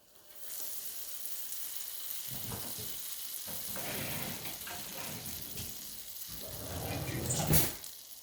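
Butter melts in a pan for Filipino-style ube rice krispies, giving a soft, steady sizzle with occasional stirring scrapes and a brief clink near the end, no talking.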